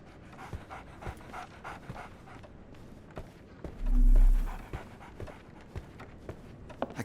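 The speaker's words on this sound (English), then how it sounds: "So, Barnes has a dog now." Panting from a dog in the Sherlock Holmes: The Awakened game, a short, fairly close burst of breathy huffs about midway, set among light scattered clicks and soft game ambience.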